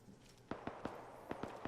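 Distant gunfire in an Arma 3 World War II scenario, six sharp muffled shots in two loose clusters, faint and far off against quiet background.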